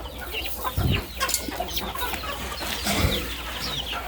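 Chickens on a poultry farm cluck and murmur in a busy flock at close to medium range, with scattered short calls over a continuous farmyard hum.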